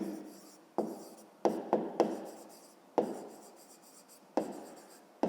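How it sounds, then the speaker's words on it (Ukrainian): Pen writing an answer by hand in a maths exercise, a series of quiet scratching strokes with sharp onsets roughly every half second to second, close and alone. "а тепер записуємо відповідь"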